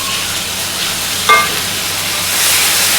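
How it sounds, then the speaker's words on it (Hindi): Garlic frying in a pan for a pahadi home recipe: a steady soft sizzle with a brief stir or clink partway through, close and fairly quiet. "जब ये थोड़ा सा फ्राई हो जाएगा ना लहसुन"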